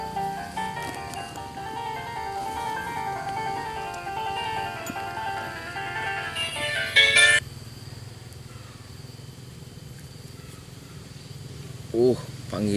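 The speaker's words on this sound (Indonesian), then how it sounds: "ada panggilan telepon" An incoming phone call's ringtone plays a steady, repeating melodic pattern of bright tones for about seven seconds, then cuts off abruptly, leaving a quieter background with a faint murmur.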